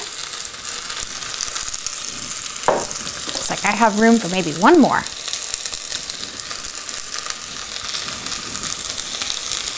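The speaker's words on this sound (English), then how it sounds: "I'm going to add in a little olive oil, nice little happy sizzle there." Mushrooms sizzle and crackle in hot olive oil in a pan while a person talks over it, with a brief scraping stir midway.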